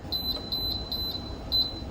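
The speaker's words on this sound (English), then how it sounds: "Once it reaches its temperature, it will beep to let you know that it reaches temperature." A heat press for hats signals it has reached its set temperature with a series of short, high electronic beeps, four evenly spaced double chirps repeating at a steady rhythm over a quiet background hum.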